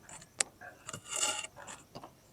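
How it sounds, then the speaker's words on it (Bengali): Moringa drumstick stems are cut up for a rohu fish curry: a few short, close woody snaps and scraping rasps arrive irregularly, with quiet gaps between them. "এবার আমি নাইজনি ডাটা কইটে নেছি।"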